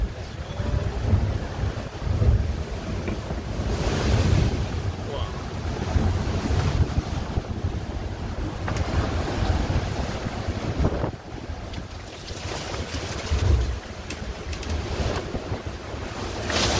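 Aboard the Niji 40 racing sailboat in roughly eight-metre seas and forty-knot wind, heavy wind roar buffets the microphone while waves crash and surge against the hull in repeated loud bursts.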